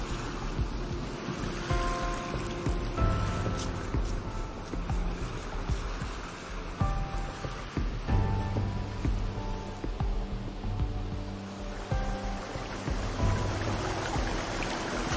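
Ocean surf rolls onto a beach where sea turtle hatchlings race for the water, soft swelling waves washing in and out under a steady tonal background.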